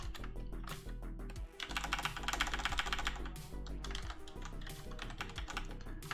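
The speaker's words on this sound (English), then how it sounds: "if you hear any clipping noise, it's my keyboard." Rapid, continuous typing on a computer keyboard, with keys struck hard and close by in dense bursts, and no talking.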